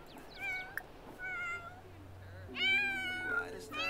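A cat in The Sims 4 meows several times, short rising mews spaced across a few seconds, with a longer, louder meow near the end over faint background music and soft game sounds.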